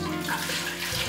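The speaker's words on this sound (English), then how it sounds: "Then transfer the liquid back into the bowl." Warm milk and egg mixture is poured back into a bowl, a brief continuous liquid splashing and trickling heard close up with no talk.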